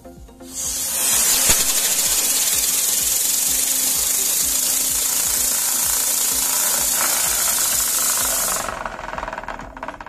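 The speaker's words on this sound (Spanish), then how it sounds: "Para estos motores más grandes voy a usar unos ignitores de pólvora negra" Rocket motors lit by black powder igniters fire on a rocket-powered electricity generator rig. A loud, steady roaring hiss starts abruptly, holds evenly for about eight seconds, then cuts off, leaving faint background noise.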